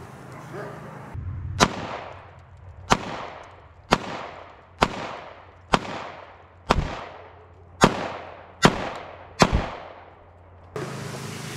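Nine sharp gunshots from a Ruger 57 pistol at an outdoor shooting range, evenly spaced about a second apart, each loud crack followed by a short ringing decay, with a faint voice before the first shot.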